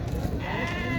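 A goat bleats at a livestock market in Xaçmaz, a short wavering call heard over crowded market noise and background chatter.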